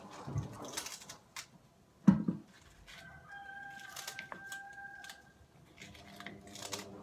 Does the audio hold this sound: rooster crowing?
yes